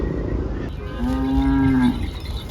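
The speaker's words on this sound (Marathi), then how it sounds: "हे बघा, एकदम जातीवंत बैल माडवी शेरी जातीचे बैल आणत असतात." A Malvi bull at the Chopda cattle market gives one loud, sustained moo of about a second against a background of market noise.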